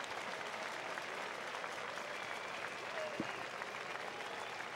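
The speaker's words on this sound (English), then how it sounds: "the crowd gives him a nice round of applause" A crowd at a minor-league baseball game applauds, a steady wash of distant clapping that holds evenly throughout, fairly faint.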